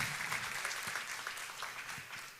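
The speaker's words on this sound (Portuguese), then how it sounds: "Aplauda mais uma vez o nome de Jesus." A church congregation at a Sunday evangelical service claps together in sustained, fairly faint applause lasting a couple of seconds.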